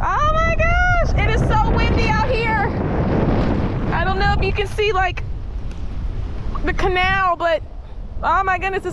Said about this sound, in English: As you can see, it is super windy out here.